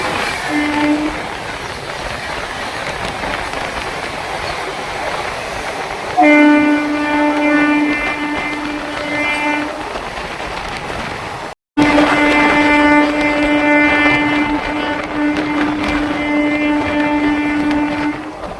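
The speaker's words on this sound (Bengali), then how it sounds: "ছুটে চলেছে দীঘা ফার্স্ট প্যাসেঞ্জার, আরেক দিক থেকে বেরিয়ে যাচ্ছে এক্সপ্রেস ট্রেন।" The Digha First Passenger train rumbles steadily past Santragachi with clattering wheels as an express train passes the other way, while long, loud horn blasts sound twice, the second after a brief cut.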